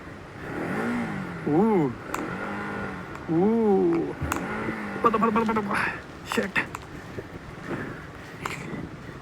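A KTM Duke 250 engine revs up and down in two rising-and-falling bursts on a clay off-road village trail, followed by clattering knocks and rattles nearby.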